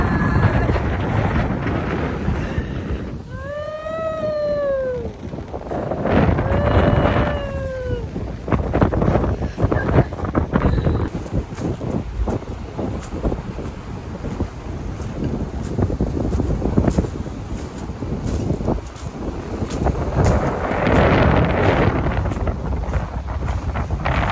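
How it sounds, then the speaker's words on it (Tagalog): Strong wind in Dingalan, Aurora, Philippines buffets the microphone with a constant roaring rumble, while a cat meows twice early on. "Ang lakas ng hangin"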